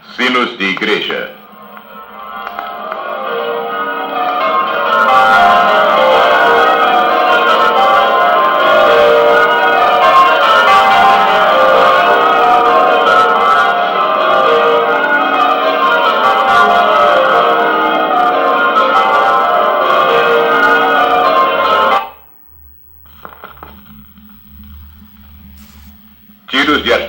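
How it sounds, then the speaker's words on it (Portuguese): Church bells ringing from a film sound effects record, a dense peal of overlapping strokes sounding loud and continuous for about twenty seconds before stopping abruptly, followed by faint residual noise. "Sinos de igreja."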